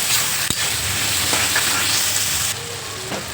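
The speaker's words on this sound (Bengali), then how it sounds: "মশলা পেঁয়াজ টমেটো হালকা হালকা ভাজা হয়ে গিয়েছে এবার আদা রসুন বাটাটা দিয়ে দেবো" Ginger garlic paste fries with onion and tomato in a pan, giving a close, continuous sizzle with a small clink near the start and no voices.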